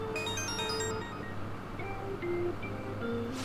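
A phone ringtone from the video game Persona 5 Royal chimes softly, a short run of bright melodic tones fading into quiet in-game background music.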